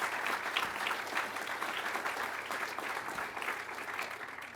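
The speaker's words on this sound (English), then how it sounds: "So a round of applause for our services personnel" Steady, dense applause from an audience at an Air Force undergraduate pilot training graduation, clapping for services personnel, sustained throughout with a faint crowd murmur beneath.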